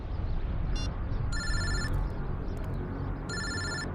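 A phone rings in repeated electronic trills, two longer bursts after a short one, over a steady low background hum.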